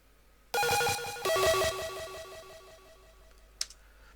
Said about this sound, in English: You've also got a ping pong delay right on here